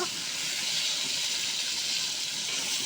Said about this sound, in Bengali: আমি প্রথমে বেগুনগুলা ভেজে নিচ্ছি